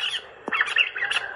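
Recorded bird call played through a bird-trap loudspeaker, a series of sharp, harsh squawks and chirps in quick succession, loud and close with a slightly electronic tone.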